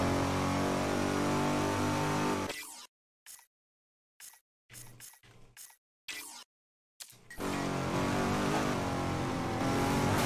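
A tuned Lexus engine in the racing game Midnight Club 3 roars loudly with a steady rich drone, then cuts out into short broken bursts before the revving returns at full volume.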